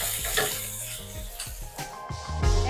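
Home-grown fenugreek leaves dropped into a hot pan, a burst of sizzling and wet crackle with soft clunks of stirring, close and moderately loud, no speech.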